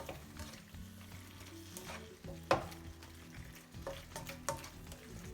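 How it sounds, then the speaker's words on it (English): Pasta being stirred into arrabbiata sauce in a hot pan, with a continuous close sizzle, spoon scrapes and a few sharper clinks against the pan, no talking. "Give it a mix around."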